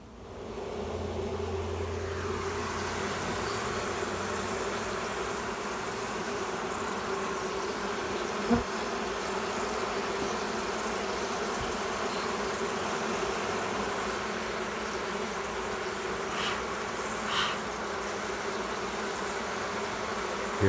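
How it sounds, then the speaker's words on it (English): A steady, close buzzing hum of many bees fanning inside a hive, constant and dense with no talking. "There's less bees up here fanning"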